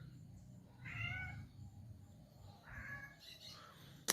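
A stray cat meows twice outdoors, two drawn-out, wavering cries a couple of seconds apart, fairly clear above a low background rumble.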